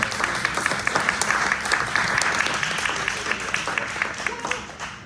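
Audience applause at a Boulder Colorado legislature primary candidate Q&A, continuous crowd clapping that holds loud for several seconds before tapering slightly at the end.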